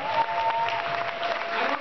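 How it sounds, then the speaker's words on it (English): Steady applause for a school principal, dense and continuous clapping filling the room at moderate level for a short burst. "Let's give her a huge round of applause."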